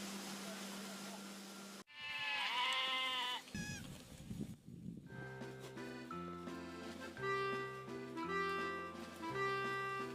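Goats bleat loudly at a farm, several overlapping wavering calls, with backing music and a voice carrying on over them for most of the stretch.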